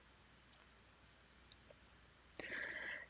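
Several faint, sharp computer mouse clicks spaced apart in a quiet room while editing a data provider in a reporting tool, followed by a short burst of brighter clicking and rustle near the end.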